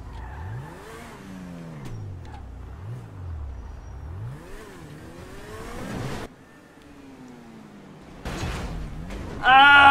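Car engine in GTA V revving with rising and falling pitch sweeps, then impacts and scraping as the car crashes and lands, ending in a loud burst; a voice talks over parts of it.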